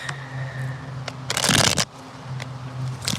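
Tarot card deck shuffled by hand during a live card reading, a quiet crackle and then a dense riffling burst of about half a second, under a low steady hum.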